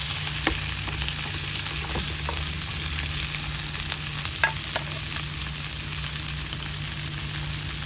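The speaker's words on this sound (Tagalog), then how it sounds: "Lutuin lang natin yung hipon ng mga 2 minuto" Shrimp fries in a pan with a steady, bright sizzle throughout, broken by a few faint clicks and stirring scrapes.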